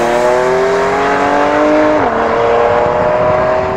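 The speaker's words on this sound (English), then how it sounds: "a PDK-equipped 911 sounds simply amazing under full acceleration" Loud, continuous engine wail of a Porsche 911 of the 997 generation with a PDK gearbox under full acceleration, its pitch climbing steadily, briefly dipping at a quick upshift, then rising again, with no talk.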